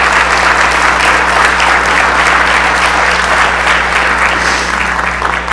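A large audience at a breakfast award event for a labor champion applauds steadily and loudly, a dense, sustained clapping that fills the room without letup.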